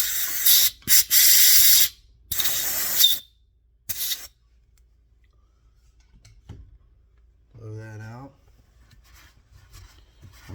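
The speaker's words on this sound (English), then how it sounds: "it's nice if you have an air line, and you can just blow that out of there" Compressed air from an air line blasts through the engine case holes of a 1979 Harley-Davidson XLH Sportster during a rebuild, in several loud, sharp hissing bursts over the first four seconds, followed by quiet and a brief voice.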